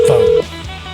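Telephone dialing tone on a radio show, a single loud steady beep lasting under half a second, then quieter line hiss and faint tones.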